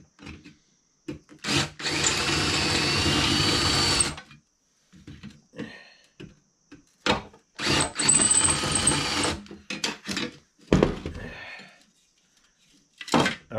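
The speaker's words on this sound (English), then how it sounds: "We just kind of spun the rivets until they were weak and drilled." A power drill bores out rivets on a 1981 Huffy bicycle, whirring loudly in a steady burst of a few seconds, then returning in shorter bursts between pauses and scattered clicks.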